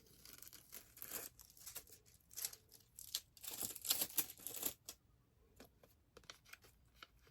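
Adhesive backing being peeled off a craft sheet for a diorama or dollhouse project, a quiet, close crackling tear in irregular bursts that builds in the middle, then fades into scattered small crinkles.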